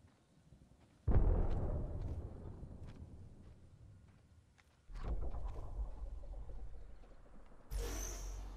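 An arc star grenade in Apex Legends, heard as a sudden loud boom that decays slowly, followed by a second blast and a sharp crackling electric burst near the end, alongside game sounds.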